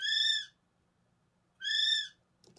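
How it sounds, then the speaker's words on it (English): Two long, shrill whistled calls from a male kiwi, with a harmonic, piping tone, separated by a second of quiet, clear and close. "I took a male Kiwi call,"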